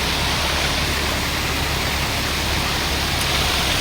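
Water from the natural spring Bukal ni Wayway rushes continuously as a dense, close, even roar of broadband noise with no pauses or voices.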